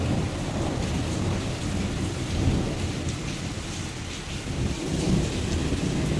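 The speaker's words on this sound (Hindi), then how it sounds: "जब भी बादल गरजते हैं और बारिश होती है ना, तो वो बहुत ज़्यादा साउंड मेक करते हैं" Steady heavy rain of a first summer storm in Botswana pours throughout, with low rumbling thunder rolling underneath and swelling a couple of times; no voices.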